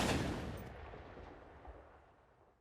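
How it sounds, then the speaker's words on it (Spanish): A small landmine explosion in a war film bursts loudly at the start, then its rumble decays over about two seconds, with a faint click at the end. "Debido a esto ocurre una explosión que resulta ser sorprendente."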